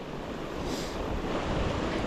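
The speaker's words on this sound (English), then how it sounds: "it looks like there's moving water and it's not completely iced up" Water moves steadily through a partly iced winter creek, a broad continuous wash with some wind noise on the microphone, fairly close and unbroken, with no voices.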